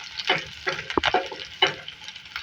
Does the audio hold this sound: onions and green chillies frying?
yes